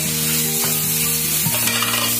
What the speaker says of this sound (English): Keep on stirring it till it turns brown.